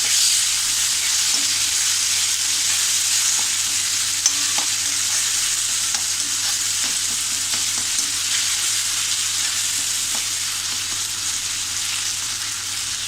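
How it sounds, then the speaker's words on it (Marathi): Ginger garlic paste sautés in a pan for a Malvani-style matar bhaji, a loud, steady frying hiss with faint stirring scrapes throughout, close up and with no talking. "दोन चमचे आपण आलं लसणीची पेस्ट टाकूया. ही सुद्धा छान आपण तिचा कच्चेपणा जाईपर्यंत परतून घेऊ."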